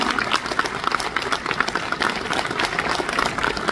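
Steady applause from a crowd at an MBA graduation ceremony, a dense patter of many hands clapping at moderate volume throughout.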